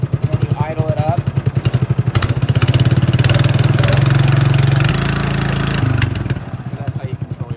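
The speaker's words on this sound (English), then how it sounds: "As soon as it starts, you just push the choke in. And you idle it up." Small pull-start engine on a hydraulic gooseneck trailer, running at a loud, steady idle with a rapid even putter that rises briefly as it is idled up, then settles and fades near the end.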